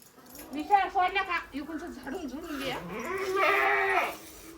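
Goats bleat on a small farm where goat milk is being drawn, with wavering, quavering calls from nearby animals that overlap with people talking.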